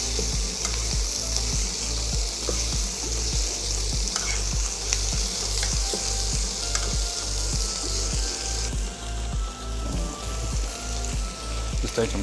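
Coconut chicken tagliatelle sizzles and fries in a pan while being stirred through, a steady loud crackle with regular scraping strokes running throughout, no voices.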